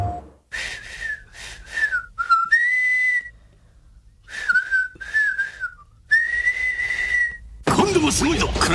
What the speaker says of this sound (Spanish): silbando la canción japonesa